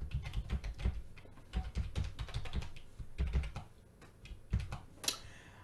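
Fingers typing a password on a computer keyboard, a quick irregular run of close clicky keystrokes with short pauses between bursts.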